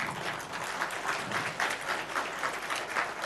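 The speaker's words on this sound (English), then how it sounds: "give him a proper round of applause" A standing audience at a national pastoralists conference gives a sustained round of applause, a thick, continuous clatter of many hands that swells slightly in waves and carries on without pause.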